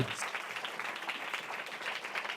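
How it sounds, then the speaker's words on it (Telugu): A church congregation applauds at a Sunday service, a dense, steady wash of many hands clapping throughout, moderately loud, with faint voices mixed in. "Give the big claps to Jesus."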